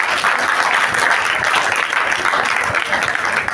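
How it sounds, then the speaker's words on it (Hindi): Schoolchildren clap loudly and steadily at the closing ceremony of a district-level basketball tournament, a dense, continuous burst of applause from a large crowd. "सारे बच्चे ताली बजाओ एक बार जोर से।"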